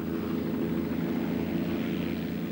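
Propeller aircraft engine in flight, recorded on board during a Lancashire to Yorkshire air race, a steady loud droning hum with no talking.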